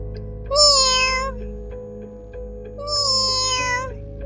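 Two drawn-out cat meows, clear and close, separated by a pause, over a low steady background hum.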